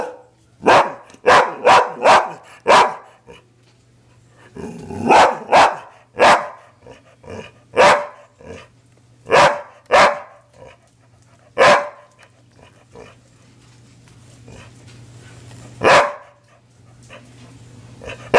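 A dog barks repeatedly up close, loud sharp barks in quick bursts with short pauses between, tapering to a few scattered barks.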